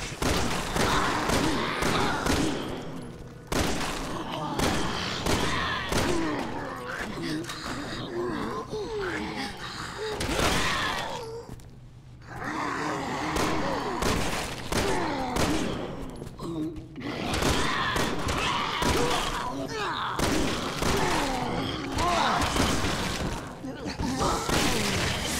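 Repeated bursts of gunfire ring out in Resident Evil 6, loud shots and thuds scattered across the stretch under frequent talking and shouting, with a couple of short quiet gaps.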